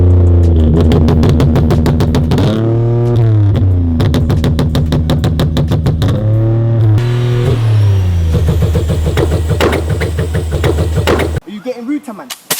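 Turbocharged Nissan 350Z drift car revving hard, its engine climbing and dropping through repeated sharp throttle blips, loud and close, with a whistling turbo note and a short rough cutoff at the end.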